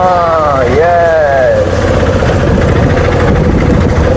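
A boat engine idles in Kochi harbour at Thoppumpady, giving a steady, loud low rumble with vibration that runs throughout, while a wavering tonal whine rises and falls over the first second and a half.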